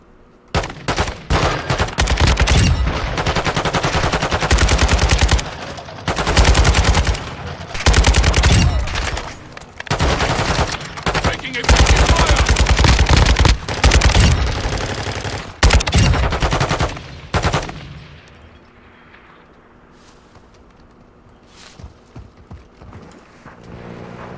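Loud, sustained automatic gunfire from teammates in a Call of Duty DMZ match, long dense bursts broken by short pauses, close up, then fading to quieter ambience near the end.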